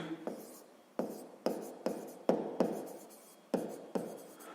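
A pen scratches across paper in quick, regular strokes, about nine distinct marks in a steady rhythm, close and clear, as a sixth-grade maths solution is written out.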